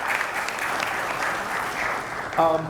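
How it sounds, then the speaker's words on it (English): An audience at a sustainable mobility panel event applauds the speakers with sustained, moderately distant clapping, then a voice briefly begins speaking near the end. "a huge round of applause for these wonderful speakers for us tonight"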